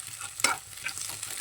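Scrambled egg bhujia stirred and frying in a pan, a soft sizzle with one sharp scrape of the spatula near the start, close and brief, no voices.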